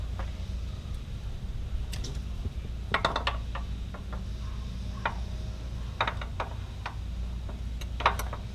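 Ratchet strap cranked tight over an ATV on a Big Tex SA35 trailer with a Cabela's tie-down system, giving a series of sharp mechanical clicks in short irregular bursts over a steady low background hum.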